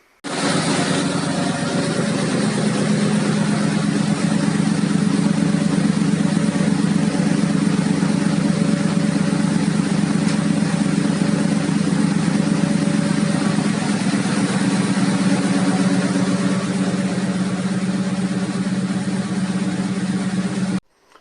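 A turbocharged LS2 V8 engine in a Volvo 240 GLE idling steadily and loudly up close, a constant deep hum with a rough, throbbing texture that holds unchanged throughout.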